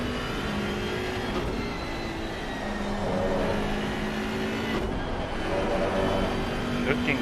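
A BMW race car's engine drones steadily around the Kyalami circuit in a racing video game, holding a constant whirring pitch with slight rises, loud and continuous beneath a commentator's talk.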